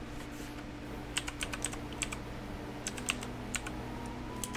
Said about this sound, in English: I'm hearing typing